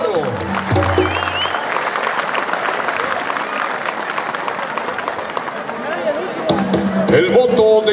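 Crowd applause at a Mexican bull-riding rodeo, a dense, sustained wash of clapping from a large audience beneath an announcer's voice, with loudspeaker talk and music surfacing near the end.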